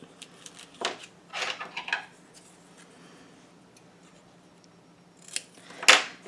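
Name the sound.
scissors cutting dark patterned paper to fit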